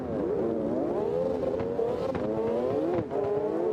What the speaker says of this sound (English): we got a couple of old Porsches in here.